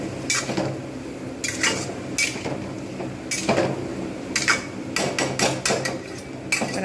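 A spatula stirs bitter gourd curry in a pan, tapping and scraping the metal in bright, close clinks that come in irregular clusters of quick strikes with short pauses between.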